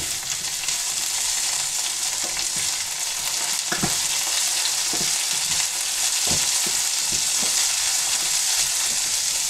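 Green beans added to onion and carrot frying in a pan, a loud, dense, continuous sizzle with scattered spatula knocks and scrapes, close and with no talking.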